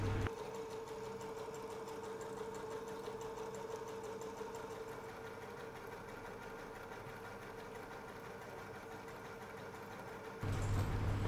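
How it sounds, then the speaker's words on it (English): A sewing machine stitches a zigzag seam on fabric leaves for a Chanel-style flower brooch, with a steady, fast mechanical whir and hum running for about ten seconds before stopping abruptly. "finishing stitching the leaves with zigzag seam"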